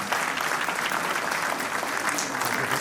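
An audience at a university convocation in Srinagar claps loudly and continuously, a dense sustained applause filling the whole stretch.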